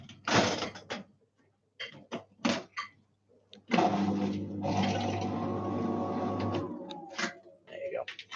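A 1995 washer dryer combo running, a steady mechanical whir with a falling tone near the end, heard between and under stretches of nearby talk.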